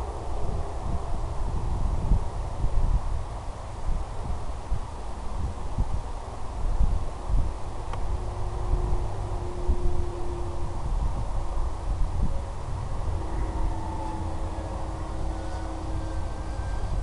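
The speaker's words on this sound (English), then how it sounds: "A bit windy today." Steady wind sweeping across an open field, a continuous low rumbling buffet on the microphone with gentle gusty swells and no voices throughout.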